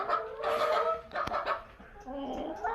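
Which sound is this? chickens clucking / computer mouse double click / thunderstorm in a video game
chickens clucking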